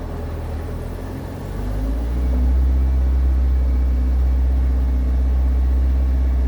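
A 2024 Kawasaki Ridge UTV in low-range work mode idles and then, under gentle throttle, swells into a deep, steady engine drone that holds close and loud.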